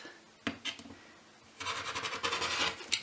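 A worn rotary cutter blade trims fabric for reusable makeup remover pads, giving a short scrape near the start, then a longer run of rough, rasping cutting strokes close by, with no talk.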